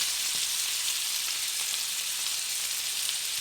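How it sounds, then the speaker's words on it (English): Pork belly fries in a pan for Polynesian fried rice, a close, continuous bright sizzle and crackle with no talking. "now that our pork belly is starting to cook halfway through"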